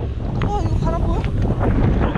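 Strong wind buffets the microphone on a mountain summit during a cycling trip, a loud continuous roaring rumble, with a voice speaking briefly over it.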